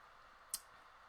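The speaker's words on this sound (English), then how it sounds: "you're having a hard time with that keyboard tonight" A single sharp computer keyboard click snaps once in an otherwise quiet room, brief and close, fading almost instantly.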